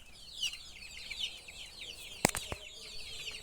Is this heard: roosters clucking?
yes